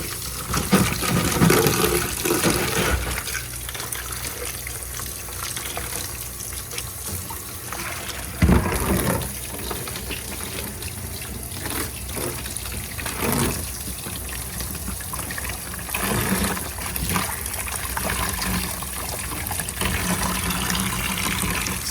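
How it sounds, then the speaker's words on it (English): Tap water running hard while a very dirty towel is rinsed out by hand, a continuous gushing splash that surges and eases with occasional louder splashes, close and without talk. "this towel was so dirty that I need to rinse it out several times"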